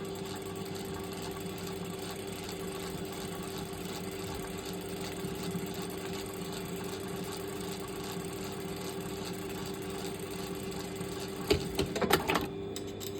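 A sewing machine runs steadily while stitching a jacket collar, its motor hum constant and moderate throughout, with a few brief louder mechanical clicks near the end.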